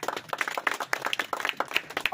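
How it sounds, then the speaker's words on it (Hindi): Audience in a public gathering in Sitamarhi, India, clapping loudly after being urged on, a dense burst of many hands with sharp irregular slaps throughout. "जी, तो एक बार आप लोग जोरदार ताली बजाइए।"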